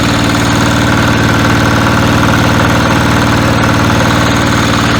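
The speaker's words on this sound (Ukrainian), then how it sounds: "Послухайте, як працює дизельний двигун." The diesel engine of a Motor Sich MB-9DE walk-behind tractor runs steadily up close at maximum revs, a loud, even, throbbing idle with a rapid mechanical knock and no pauses.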